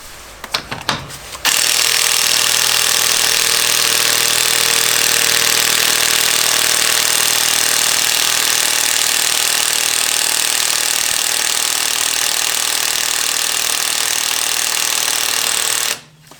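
A Hychika 18V cordless impact wrench hammers continuously for about fifteen seconds at close range, loud and unbroken, straining against stubborn car wheel nuts after a few brief clicks.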